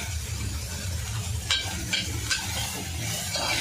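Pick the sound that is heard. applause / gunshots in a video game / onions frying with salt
onions frying with salt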